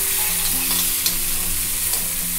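Small shallots and curry leaves sauté in a pan with a strong, steady sizzle, a few light stirring clicks and a low hum in the background, all close by.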